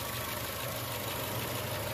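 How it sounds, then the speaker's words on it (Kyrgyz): A restyled 2005 Honda Fit in good condition idles steadily, its engine giving an even, continuous low drone with no speech over it. "Мотордун иштешин көрүп турасыздарбы?"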